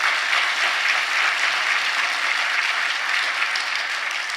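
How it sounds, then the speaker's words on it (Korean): A church congregation breaks into loud, sustained applause, a thick wash of many hands clapping evenly throughout with no voices on top. "우리 다 같이 한번 하나님께 박수 보냈습니다"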